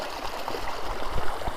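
Water rushes steadily along a hillside beck in the outdoors, a continuous broadband hiss and babble at moderate distance with no voices.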